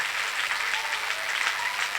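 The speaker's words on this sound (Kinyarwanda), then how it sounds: "Amashyi menshi ku mwami wacu Yesu." A church congregation claps together at a steady pace through the whole moment, with dense overlapping hand claps, loud and close, and no voices heard over it.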